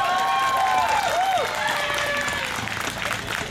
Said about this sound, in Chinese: 请你们给你们自己掌声鼓励一下